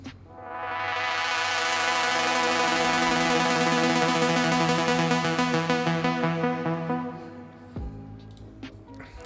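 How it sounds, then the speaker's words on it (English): An arpeggiated LFO synth patch from Serum in an Afro House track plays a dense, rapidly pulsing chord that swells in and sustains loudly, then cuts off abruptly near the end, leaving a few scattered clicks and no talk. "I use this LFO rated, like arpeggiated LFOs from Serum"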